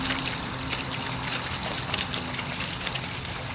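Water pours and trickles through an arcade monitor as it is washed out, a soft, continuous splashing wash at moderate distance with no one speaking.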